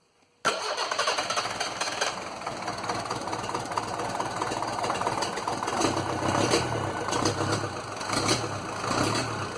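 Land Rover Series 2a 88 with a 2.25 diesel engine is cranked after glow-plug heating and catches, settling into a loud, steady, slightly knocking idle that runs on without pause.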